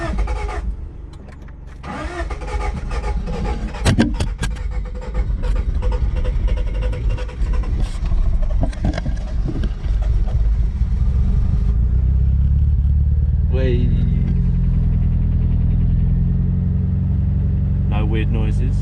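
A 1993 Honda Del Sol with a D15 engine cranks on jumper cables and catches, settling into a steady idle; speech is heard during the start.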